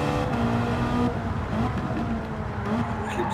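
Ferrari engine roaring in Gran Turismo 7, a steady loud drone with shifting pitch and occasional gear-change dips throughout, with faint talk underneath.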